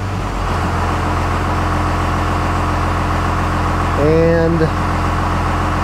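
A 1st Gen Cummins diesel truck engine idles steadily at 850 rpm while parked in park, a constant low rumble close by, with a brief voice partway through.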